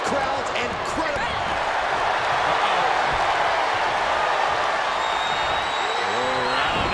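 A WWE 2K23 wrestling arena crowd roars in a dense, continuous wall of cheering and clapping, with a commentator talking over it throughout.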